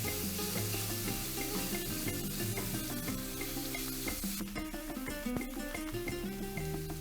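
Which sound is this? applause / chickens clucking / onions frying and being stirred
onions frying and being stirred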